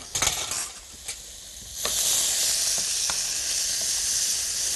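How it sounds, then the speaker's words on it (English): Onion and vegetables sizzle and crackle in a hot pan while being stirred for minestrone soup, a few sharp clicks of the utensil at first, then a steady, close hiss of frying with no talk. "You can feel, you can hear the Crackling. the crackling about the vegetable when they are stirring."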